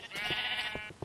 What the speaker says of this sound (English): 2 more sheep have escaped.